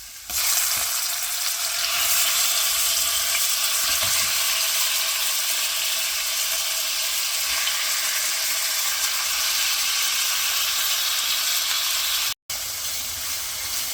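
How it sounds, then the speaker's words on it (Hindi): Marinated chicken pieces fry in a pan over a high flame, giving a loud, steady sizzle with occasional stirring scrapes and clicks, continuous throughout with one brief cut near the end. "चिकन को 4 से 5 मिनट के लिए ऐसे कुक करेंगे जब तक कि इसका कलर चेंज ना हो जाए।"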